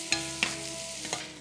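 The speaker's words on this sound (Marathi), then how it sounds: "कांदाही परतून घ्यायचा." Finely chopped onion sautés in a pan, giving a short, close, steady sizzle. Three quick stirring scrapes and taps stand out, with no voices.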